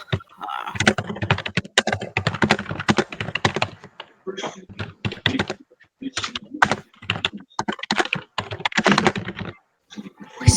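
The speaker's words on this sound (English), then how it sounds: "Whisper typing aggressively." Fast, forceful typing on a computer keyboard, dense bursts of hard key clicks broken by short pauses, close and fairly loud with no talk.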